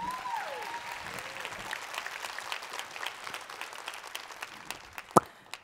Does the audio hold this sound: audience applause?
yes